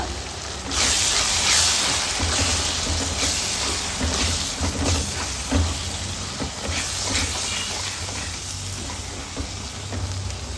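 Coriander, turmeric and garam masala powders fry in a pan for a palak mushroom curry, giving a steady hiss and sizzle that holds at an even, moderate level with no talking.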